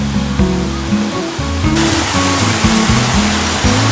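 A loud, steady roar of Otome Falls in the Yokoya Gorge crashes close by, a dense rushing wash with deep rumbling underneath.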